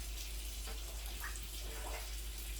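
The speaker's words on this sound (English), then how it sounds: "I'm just filling the sink." Tap water running steadily into a kitchen sink while corn husks soak for New Mexico red chile pork tamales, a continuous close hiss and gush with small splashing bubbles.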